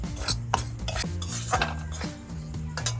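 A metal spoon scrapes and stirs semolina and flour, along with rice flour, dry-roasting in a pan for rice-flour syrup sweets, giving a close, continuous clatter of repeated scrapes and knocks with no one talking.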